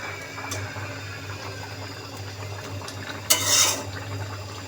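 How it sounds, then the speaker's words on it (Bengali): A home-cooked fish curry with cumin powder is stirred in a pot over a low steady stove hum, with faint clinks and one brief, louder wet swish near the end. "একটু নাড়াচাড়া দিয়ে দিব"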